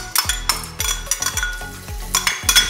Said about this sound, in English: I'm just going to go ahead now and add the garlic and the ginger to here.